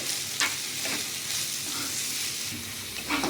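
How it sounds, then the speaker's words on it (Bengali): Chopped onions with salt sizzle in hot white oil in a wok-style pan, a steady close frying hiss broken by a few brief stirring scrapes, with no talking. "কড়ায় সাদা তেল দিয়ে নিয়েছি এবার এখানে পেঁয়াজ কুচিটা দিয়ে দিচ্ছি"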